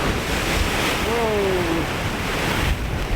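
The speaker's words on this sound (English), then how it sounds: "The sea just looks amazing. So much noise down there and activity." High-tide sea waves crash with immense power on the shore at Kildonan, Isle of Arran, on a windy day: a continuous loud roar of surf under gusting wind noise, with a brief exclaimed voice.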